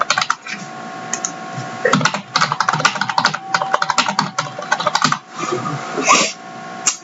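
Rapid, close typing on a computer keyboard, with dense bursts of key clicks broken by a few short pauses.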